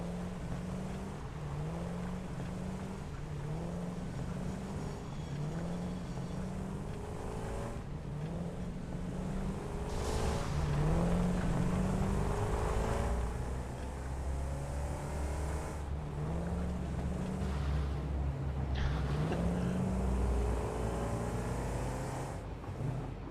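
Steady engine drone of a vehicle driven in the factory-building game Satisfactory, a continuous mid-loud hum with rhythmic pulsing and occasional swells and whooshes as it moves along, with no talking.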